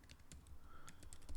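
Quick, faint keystrokes tap on a computer keyboard as a web address is entered, a short burst of light clicks heard alone without speech.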